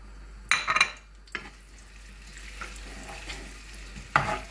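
Onion fries in oil in a pan with a soft, low sizzle, broken by a few sharp metallic clatters and scrapes of a utensil against the pan.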